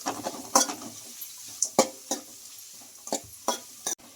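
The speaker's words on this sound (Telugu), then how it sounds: "ఈ ఆనియన్స్ను కలర్ చేంజ్ అయ్యే వరకు ఫ్రై చేసుకుందాం" Onions with salt fry in a pan while a utensil stirs them, giving soft clinks and scrapes against the pan in irregular bursts over a faint sizzle, close by and with no talking.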